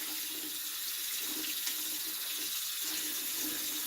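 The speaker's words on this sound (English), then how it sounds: "let's see if you can see the water going down the drain" Tap water runs steadily into a sink while a paint brush is rinsed under it, a continuous close splashing hiss across the whole stretch with no talk.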